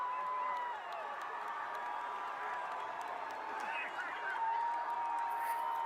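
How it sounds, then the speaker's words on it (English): A large audience at a San Diego Comic-Con announcement cheers and applauds in a continuous, distant wash of crowd noise, with a speaking voice over it. "the fact that people are actually cheering for this"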